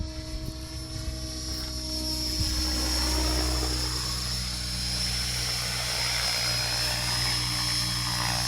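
A Sämpys Xxtreme model aircraft hovers cautiously on its maiden flight outdoors, its steady rotor whine and buzzing motor drone holding close and loud throughout without pause.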